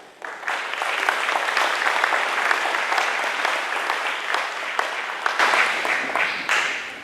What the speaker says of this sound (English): So we want to give everybody one big round of applause.